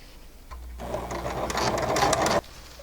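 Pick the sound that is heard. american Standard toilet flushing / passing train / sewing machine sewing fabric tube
sewing machine sewing fabric tube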